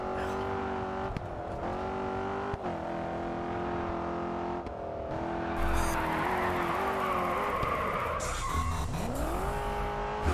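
Sustained tire squeal from a racing car drifting in the video game GRID 2, the engine droning and pitching up and down beneath the skid for about ten seconds, loud and continuous, with a brief burst of gritty noise midway.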